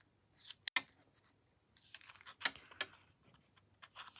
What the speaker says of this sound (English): I'm just going to cut them with my scissors